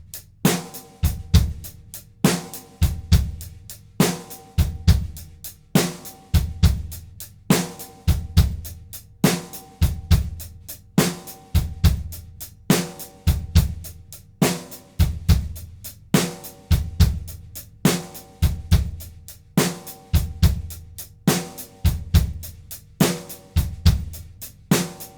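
A drum kit plays a triplet-feel beat with two kick drum notes going into beats one and three, a steady repeating groove of kick, snare and cymbals, loud and close throughout with no talking.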